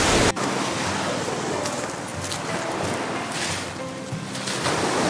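Sea waves at Presentacion, Camarines Sur wash in a steady broad roar, surf and wind noise filling the whole stretch at a constant level with no voices over it.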